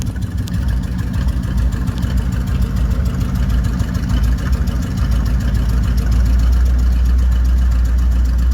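A 1955 Dodge engine idles steadily at close range, a low, even rumble that thickens and grows louder toward the end, with no talking over it.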